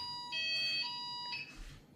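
Default tone 5 of an EMS Smartcell fire alarm, a faint high electronic tone that pulses on and off in two bursts against a low background hum.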